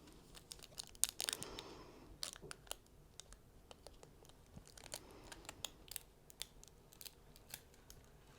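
Scissors trim the paper of a diamond painting kit in a quiet room, giving a run of close, faint snips and crisp paper crinkles with a denser burst of cutting near the start.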